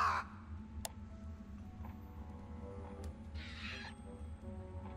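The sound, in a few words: raven cawing in the video game Surface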